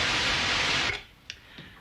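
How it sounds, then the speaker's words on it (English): Pure white noise from a modular synthesizer, a bright, steady steam-like hiss for about a second that then cuts off abruptly, leaving near silence with a couple of faint clicks. "It's called white noise."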